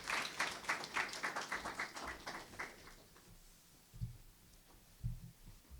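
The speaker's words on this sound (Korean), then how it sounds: "다시 한번 큰 박수로 총장님을 연단으로 모시겠습니다." Applause at a university graduate school opening ceremony fills the first three seconds with dense clapping, then fades out, leaving quiet room tone and a couple of low thumps near a microphone.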